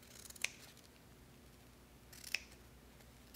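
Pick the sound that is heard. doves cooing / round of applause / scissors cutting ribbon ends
scissors cutting ribbon ends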